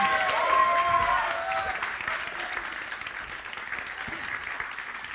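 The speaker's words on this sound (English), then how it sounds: "Give them a round of applause." Audience applause for two volunteers at a student television awards ceremony in London, a dense wash of clapping that stays steady before gradually thinning, with a voice speaking briefly over the start.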